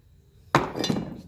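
A single close, sharp metallic tap drives a battery cable connector into place on a 1954 Ferguson 20 TEF diesel tractor, followed by a brief ringing clatter.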